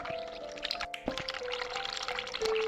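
Tap water running from a sink faucet in The Cat Lady, a steady pouring stream that continues throughout under a droning ambient background, with a brief break near the middle.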